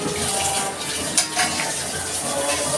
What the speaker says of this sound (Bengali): মাছটা ভেজে তুলে নিচ্ছি